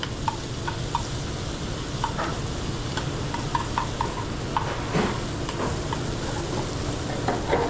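Onions frying and being stirred in a pan, a steady sizzle with scattered utensil scrapes and clicks throughout, close and fairly loud, with no talking.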